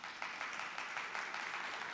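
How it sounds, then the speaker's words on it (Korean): Audience applause following a lecture by a media artist at a talk on art and technology, a steady wash of clapping from a room of listeners, moderately distant and continuous with no voices on top. "멋진 강의를 하신 조영각 작가님께 다시 한번 큰 박수 부탁드리겠습니다"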